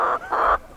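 Chicken vocalizing in two close, loud bursts of harsh, sustained clucking or squawking with a short gap between, no talking.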